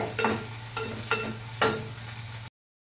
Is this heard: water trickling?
no